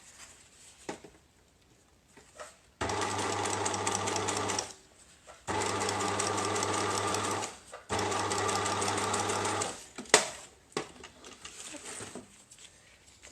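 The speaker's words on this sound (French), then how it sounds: "je vais venir surpiquer pour vraiment aplatir ma couture pour pas qu'elle me gêne" A sewing machine topstitches a seam on a fabric bicycle frame bag, running in three long, even, buzzing bursts separated by near silence with a few small clicks and handling sounds, close and fairly quiet.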